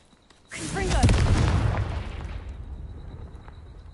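A Confringo spell in the Hogwarts Legacy video game erupts in a loud, booming explosion that swells suddenly and then rumbles away slowly, standing alone with no talking.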